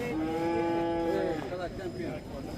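A Khillar bull lets out a long, loud moo at a Mahashivratri fair bull competition in Akluj, a single sustained call close by over crowd murmur and background noise.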